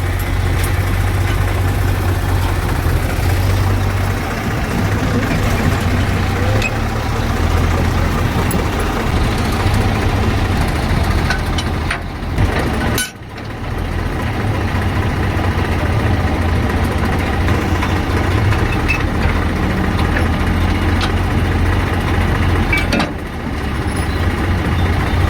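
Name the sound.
tractor engine idling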